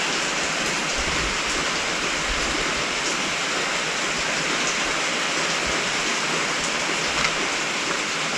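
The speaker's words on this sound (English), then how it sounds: "I'm sick of this rain." Steady rain falls on a wet day, a constant broadband wash with faint scattered patters and no voices, even in loudness from start to end.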